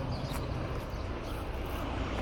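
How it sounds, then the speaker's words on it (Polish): A helicopter drones faintly overhead as a steady, continuous engine rumble, distant and unchanging throughout. "Coś jakiś helikopter, o zobaczmy."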